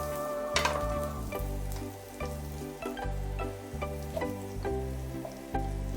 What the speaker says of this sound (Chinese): 我们先把蒜末放进去煸一下